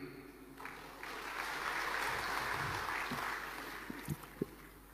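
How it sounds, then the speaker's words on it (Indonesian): Audience clapping during a political speech, a rising wash of applause that swells and fades over a few seconds, moderately faint, with a couple of louder sharp claps near the end. "Jangan terlalu cepat tepuk tangan."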